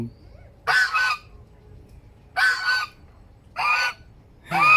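Four loud, harsh honking calls from a duck in water, each lasting about half a second, spaced irregularly over a quiet, low rumbling background.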